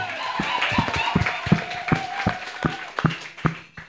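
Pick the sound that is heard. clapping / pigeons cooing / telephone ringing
clapping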